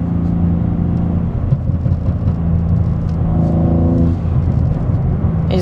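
A BMW car accelerating with its engine intake audible, a steady loud rumbling drone whose pitch rises and shifts midway, heard from inside or close to the vehicle without talk.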